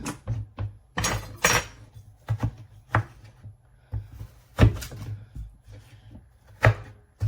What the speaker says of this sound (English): I'm going to cube them up. Put them in a little pan.